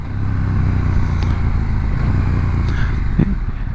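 KTM 890 Duke R motorcycle engine on a test ride, a steady loud drone held close and continuous throughout, with wind rush on top and no talk.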